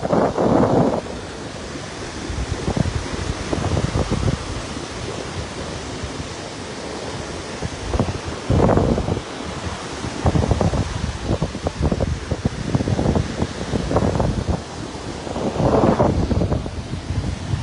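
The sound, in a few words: sea waves at Sakumono beach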